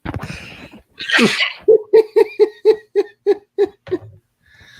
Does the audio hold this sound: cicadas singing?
no